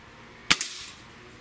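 A Gamo Swarm Magnum airgun fires an 18.13 grain pellet, one sharp close crack followed by a quick second report and a short decaying tail.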